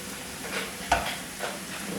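Spaghetti with prawns being stirred in a pan, a soft scrape and clink around the middle over a faint sizzle, quiet and close.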